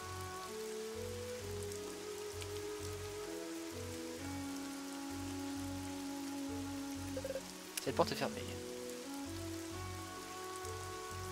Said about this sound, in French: la pluie dans le jeu me fait croire qu'il pleut vraiment chez moi